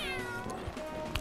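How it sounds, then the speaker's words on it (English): A cat-like Goomba enemy in Super Mario 3D World lets out a clear, close meow over busy game music and sound effects, one drawn-out call lasting about a second. "Got our cat goomba thoots."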